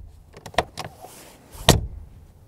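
A Mercedes G-Class G350d door is handled, with a few light clicks followed by one solid, heavy slam, close and loud in an otherwise quiet setting.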